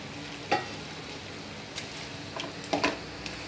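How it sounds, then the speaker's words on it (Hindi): Chicken fries in a pan with ginger garlic paste, giving a soft, continuous sizzle with a few brief taps and scrapes of a utensil. The sound is heard close up and without any voices. "चिकन का कलर चेंज होने तक इसे फ्राई करें. अब इसमें अदरक लहसुन का पेस्ट डाल दें."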